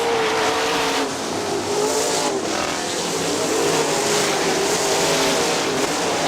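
Sprint cars race around the Kokomo Speedway dirt oval, their engines howling loud and close in a continuous, pitch-shifting snarl as the field circles, with no voices.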